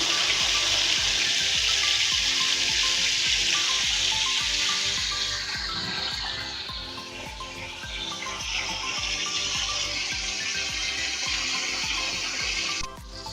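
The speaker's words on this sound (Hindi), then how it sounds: "वहाँ कबाब हो रहे हैं फ्राई" Beef seekh kebabs and tikka boti fry on medium-low heat with a steady, close sizzle that stays broad and hissing throughout, easing slightly midway, with no talk.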